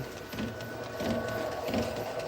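A DTF (direct-to-film) printer runs at home, laying down color and then white, with a steady mechanical whir and three regular carriage passes roughly every 0.7 seconds, fairly close and alone with no talk.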